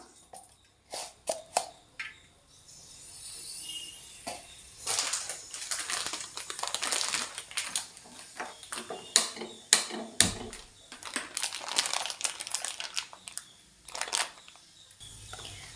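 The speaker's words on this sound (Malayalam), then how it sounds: "വെളിച്ചെണ്ണ ചൂടായി വന്നിട്ടുണ്ട് ഇനി ഇതിലേക്ക് നമുക്ക് ഉലുവ കൂടി ചേർത്ത് കൊടുക്കാം" Fenugreek seeds fry in hot coconut oil, spitting and crackling in irregular bursts that swell into a busy, close sizzle before easing off near the end.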